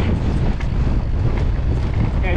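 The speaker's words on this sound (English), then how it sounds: "windy tonight, headwind." Strong headwind roaring across the microphone on a mountain bike enduro trail, a loud steady rushing buffet throughout, with a rider's voice faintly under it.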